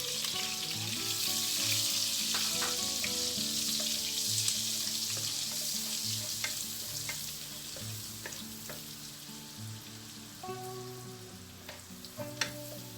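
Butter sizzles and fries in a pan of leftover bacon fat, a steady crackling hiss with scattered pops and occasional utensil clinks, fairly quiet and close, with no talking.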